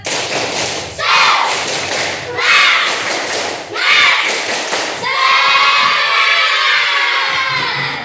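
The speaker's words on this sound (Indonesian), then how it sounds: "Sebelum pulang, tepuk semangat dulu biar semangat sampai rumah ya." Schoolchildren at an elementary school in Indonesia do a rhythmic group clap, loud bursts of claps and thumps repeating roughly every second and a half, followed by the whole class shouting and cheering together.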